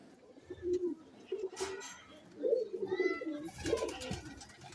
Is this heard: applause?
no